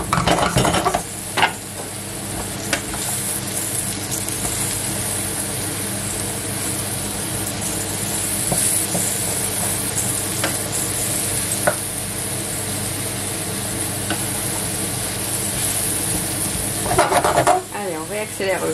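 Mushrooms and Jerusalem artichokes sauté together in a pan, giving a steady close sizzle with scraping and stirring clatter throughout, plus a brief louder utensil burst near the end.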